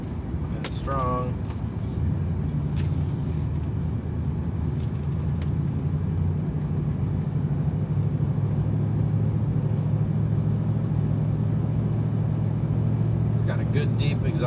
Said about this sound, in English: Got a good deep exhaust tone, just what you want really in this kind of a rig.